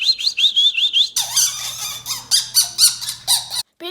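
A person whistles a bird call imitation, first a quick run of high squeaky warbling notes, then a series of pulsing squawky chirps over a faint steady hum, loud and close.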